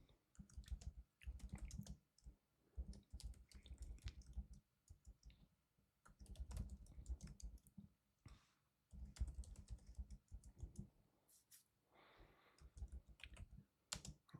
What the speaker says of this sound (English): And type the following into the code editor.